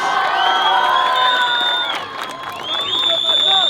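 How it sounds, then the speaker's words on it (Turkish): A crowd cheers, whoops and applauds for boxer Baran Çelik at a pre-fight weigh-in in Cizre. The cheering is loud and sustained with high whistles, dips briefly, then swells again. "Baran Çelikçilerden bir alkış alabilir miyiz?"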